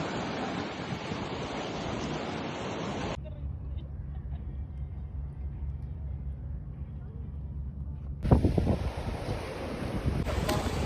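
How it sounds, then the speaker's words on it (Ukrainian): Rough, restless sea surf on a shore in Egypt, heard as a loud windy wash of breaking waves with microphone wind buffeting, dropping to a quieter low rumble before the surge returns with a burst near the end. "Море сьогодні таке неспокійне"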